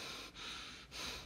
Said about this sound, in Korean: 선생님 숨소리 들립니까?